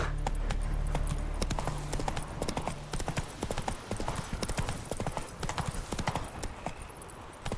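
Geralt's horse Roach gallops in The Witcher 3, hooves drumming in a fast, even rhythm up close, with a brief low tone early on and little talk.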